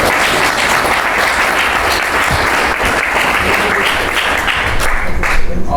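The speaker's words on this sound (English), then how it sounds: "now you can clap" Audience at a kidney cancer education event gives sustained, dense applause, a steady wash of many hands clapping for about six seconds.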